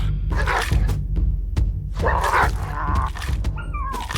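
Wild dogs in the autobattler game Kingsblood, with a run of sharp yips and barks mixed with thuds and combat effects in a busy fight.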